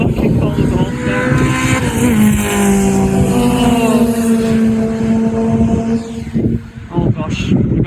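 A kit car races past on the Donington Park circuit during a track day, its engine note rising loud and close, then sweeping down and fading as it goes by.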